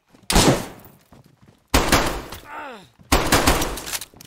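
Three loud, booming gunshots in DayZ, each a sharp blast with a long reverberant tail rolling off in the open air, spaced about 1.4 seconds apart with quiet gaps between.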